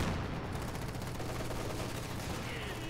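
Company of Heroes 2 mortar fire during a 4v4 multiplayer battle on the Western Front, a dense, continuous rumble of booming impacts and gunfire close and loud throughout, with no clear pauses.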